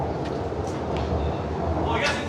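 Inside a moving Shanghai metro train, a constant low rumble and rolling roar fills the car, with faint higher squeals and hisses rising briefly above the steady drone.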